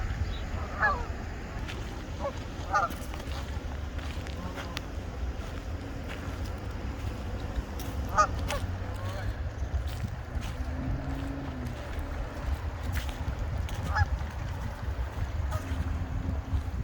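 Wild geese honk near open water, with scattered sharp calls repeating every few seconds over a steady low rumble of wind and water.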